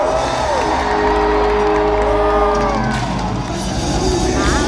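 A crowd cheers wildly at a jousting tournament between Canadian and American knights, loud whoops and shouts swelling over a steady low rumble for several seconds.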